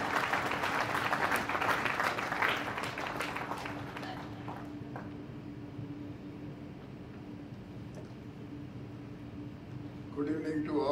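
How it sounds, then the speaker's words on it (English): Audience applause at a Sikh community ceremony in a hall, clapping for several seconds then fading to quiet room tone, with faint voices near the end. "A huge round of applause for the Varishth Yoddha"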